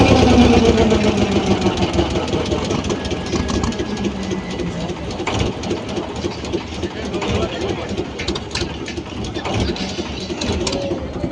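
A diesel motor launch chugs steadily on a Sundarbans river crossing near the Gadkhali ferry ghat, a continuous mechanical putter close by, with people talking over it.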